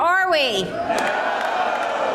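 A rally crowd at an Albany day of action cheers and whoops loudly and continuously while a speaker talks over the noise.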